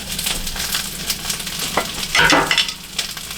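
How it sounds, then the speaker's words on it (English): Onions sizzling in a pan as they cook alongside squash in olive oil, a steady close crackling fry with a brief louder burst of hissing and stirring midway, no talk. "let's go ahead and throw these onions in there. Probably should have did that first. Let them be cooking."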